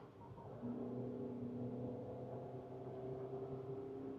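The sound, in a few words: Maruti Suzuki Victoris engine during paddle downshift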